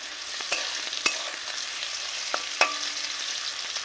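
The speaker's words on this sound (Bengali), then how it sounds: "টমেটোটা দিয়ে একটু নাড়াচাড়া করে নেব" Tomato frying in oil while being stirred for jackfruit biryani, a soft continuous sizzle punctuated by a few sharp clicks of the spoon against the pan.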